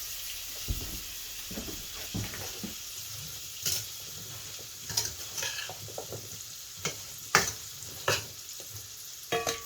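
Apples caramelizing in melted butter in a frying pan give a steady sizzle, broken by intermittent scraping stirs and clacks of a utensil, close and fairly loud with no voices.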